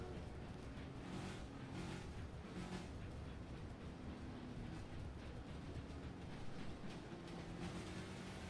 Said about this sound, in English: I wasn't expecting to see steam trains in this game.